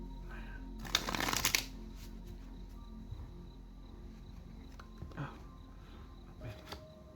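Tarot cards are riffled in one quick, close shuffle lasting about half a second, then a quiet room follows with a few faint taps.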